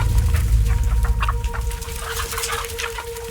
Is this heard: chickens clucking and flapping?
yes